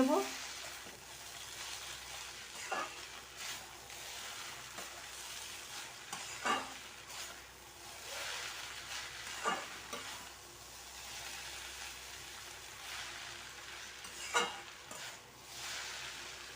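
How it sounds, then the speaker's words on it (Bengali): Tomato and dried red chili paste is stirred into chowmein in a frying pan, giving a soft steady sizzle with intermittent spatula scrapes and knocks against the pan, heard fairly close. "টমেটো আর শুকনো লঙ্কা পেস্ট করে নিয়েছিলাম সেটা দিয়ে দেবো ভালো করে মিশিয়ে"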